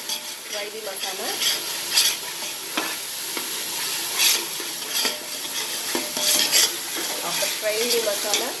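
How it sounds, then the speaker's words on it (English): Masala for chicken dum biryani fries and gets stirred in a pan, a steady close sizzle broken by repeated scraping strokes of a spoon against the metal, with no voices. "Fry the masala."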